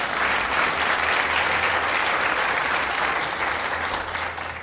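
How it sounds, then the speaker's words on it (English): A museum audience applauds the staff at the preview opening of the Buffalo AKG Art Museum, a dense, steady roar of many hands clapping that carries evenly throughout and fades slightly at the end. "And you can clap for them as well."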